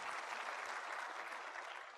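Audience applause from a lecture crowd, a dense even patter of clapping filling the whole moment at moderate loudness before tapering slightly at the end.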